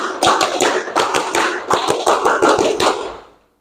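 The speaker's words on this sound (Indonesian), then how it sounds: "2 kali tepuk pramuka." Students doing two rounds of tepuk pramuka, the Indonesian scout clap, in a classroom: a loud group of sharp, rhythmic hand claps in a set pattern, repeated twice with a short pause between, then fading to silence.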